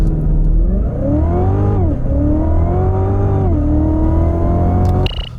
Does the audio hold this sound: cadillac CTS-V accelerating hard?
yes